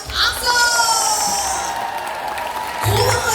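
An audience in a festival hall for a traditional Korean beggar-clown performance cheers, shouts and claps loudly in a dense, continuous crowd roar, with voices mixed into the noise.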